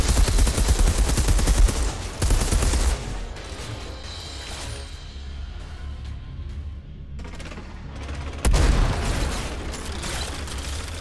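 Heavy gunfire from a firefight against snipers in the shooter game Outriders, with loud rapid bursts at the start, a quieter mechanical stretch, then another loud burst near the end.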